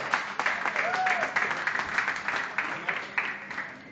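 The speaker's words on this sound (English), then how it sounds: "Please, give him a big round of applause." Audience applause at a press conference in Malaysia, a steady mid-distance patter of many hands clapping for the full four seconds with some crowd murmur mixed in.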